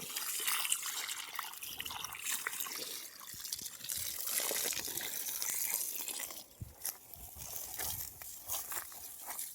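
Water poured from a hose or can onto a pak wan vegetable plant and dry, cracked soil in a backyard garden, a steady close splashing and trickling that runs throughout with slight dips, no voices.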